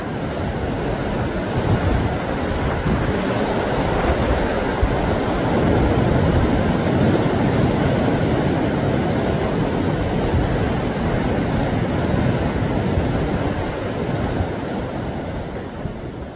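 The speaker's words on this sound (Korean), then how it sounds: "단 한 번도 멈추지 않았을 파도 소리가 손끝에서 가슴으로, 머리끝에서 하늘로 닿을 것 같은 예불 시간의 종소리처럼 밀려듭니다" Steady, loud roar of ocean waves washing ashore below Naksansa, a seaside Buddhist temple, continuous broadband surf rolling without pause for the whole stretch and no voices.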